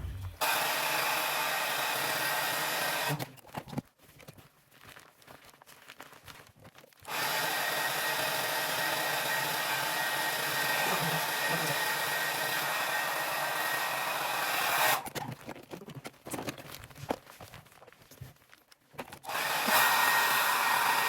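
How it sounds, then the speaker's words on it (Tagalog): A hair dryer blows steadily on rebonded hair, a loud continuous whoosh that drops out briefly twice as the airflow is cut or moved, then resumes at full strength. "ngayon ay i-blow dry natin yung ating hair"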